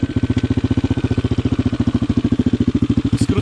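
Loud, close putter of a Bashan 200 quad engine idling through a shortened, gutted exhaust with no catalytic converter, its rapid even pulses beating steadily throughout.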